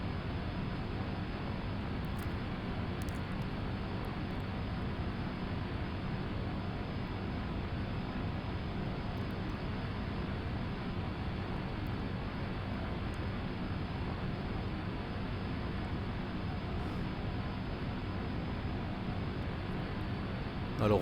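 Cessna C208 Caravan turboprop taxiing toward the holding point of runway 13, a steady, loud broadband engine roar with a low rumble that holds evenly throughout, with no pauses or voices.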